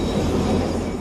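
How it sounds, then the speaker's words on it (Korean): A single-car train on a Cuban railway line that once hauled people and sugarcane, its steady rumble and rolling wheel noise loud and close, with no voices, running continuously and showing no clear stop. "그런데 갑자기 기차가 멈췄습니다."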